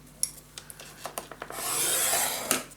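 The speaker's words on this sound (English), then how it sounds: "We need to score half inch again." Paper being scored at half-inch marks for a blue gatefold mini album: a few short light taps, then a sustained dry scraping stroke, close and alone with no talk.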